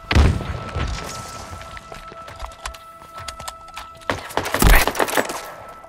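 Grenade blasts in Halo Infinite multiplayer, a couple of heavy booming bursts, one at the start and a stronger one near the end, separated by scattered clatter and lighter impacts.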